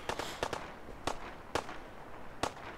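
Laser gun shots crack in Fallout 4, fired from a balcony: sharp, distinct reports spaced irregularly, with a quick cluster of three at the start and single shots after, moderately loud with quiet gaps between.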